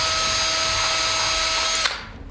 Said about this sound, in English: drill through the wet leather